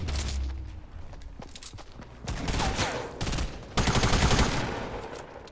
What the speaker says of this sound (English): Ooh, somebody sniping.